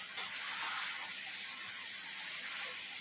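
Tangra fish sizzle in hot oil in a pan, a steady close frying hiss that carries on throughout with a faint stirring clink near the start.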